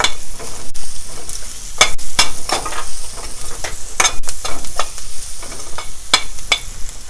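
Potato and cauliflower sabji with turmeric frying in a pan, loud close sizzling layered with repeated quick scrapes and knocks of a spoon stirring the vegetables.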